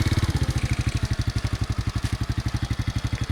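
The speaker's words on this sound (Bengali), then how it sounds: "এবার আস্তে আস্তে তুমি 2 গিয়ারে শিফট করবা বাইকটা" A motorcycle engine runs close by with a fast, even thumping beat as the rider shifts into second gear, loud and steady throughout.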